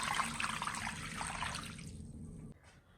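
Clean water pours into a pot holding washed pork belly, a close, steady splashing trickle that runs for about two and a half seconds before stopping abruptly, with no talking.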